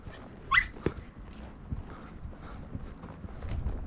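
A loose dog off its leash on an off-road trail, with a short bark or yelp burst near the start and later thuds and rustle, amid outdoor commotion.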